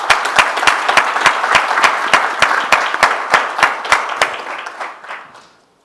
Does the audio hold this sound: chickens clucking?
no